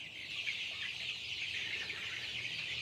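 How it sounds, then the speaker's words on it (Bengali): Desi chickens on a small rooftop farm fill the air with a dense, unbroken chorus of high peeping and clucking, steady and moderately loud, with no one talking. "এটা আমার অল্প পরিসরে দেশি মুরগির ফার্ম, বাড়ির ছাদের উপর।"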